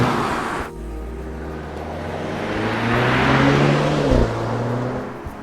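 A 2015 Audi A4 quattro with all-wheel drive pulls away hard, its engine note rising steadily in pitch through a gear change as it accelerates, fairly loud and close with no talking.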